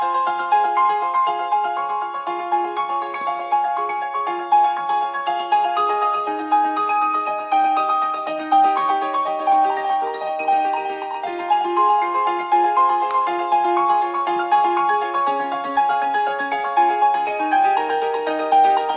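Piano chords from a theme tune, a steady run of bright sustained chords and melody notes played continuously and fairly loud with no talking.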